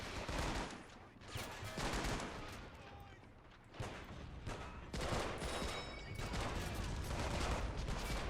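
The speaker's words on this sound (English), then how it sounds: "Explosions down on the beach as the twin AA gun is still opening up" Bursts of gunfire, a twin anti-aircraft gun and heavy explosions rumble continuously in a chaotic beach-assault battle in the video game Men of War, dense volleys swelling and dipping with no pause.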